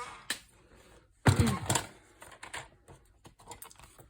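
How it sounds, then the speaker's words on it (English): A paper trimmer slices a sheet of paper while a junk journal is assembled: one sharp, close cutting stroke followed by a few light clicks and shuffles, quiet and with no talking. "Put it in my paper trimmer."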